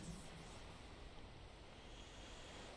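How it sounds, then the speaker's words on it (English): Steady ocean surf breaking along a flat, open horizon in the visual novel Chaos;Head NoAH, a continuous rushing wash of waves with no voices. "Together with the sound of breaking waves, I heard Shogun's voice."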